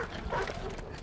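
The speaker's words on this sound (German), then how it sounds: "Klingt nach Hundis." Dogs bark in the strategy game Stronghold 2, a short muffled burst of yips and barks under a busy game backdrop, with a faint voice close by.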